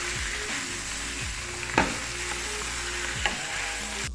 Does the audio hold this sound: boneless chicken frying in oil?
yes